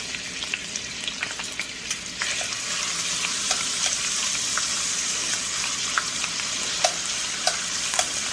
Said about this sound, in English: the first thing I'm going to do is I'm going to start off my bacon